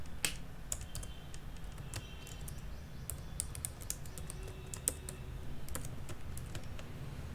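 Typing on a computer keyboard while writing HTML code, a quick irregular run of close, crisp key clicks over a steady low room hum.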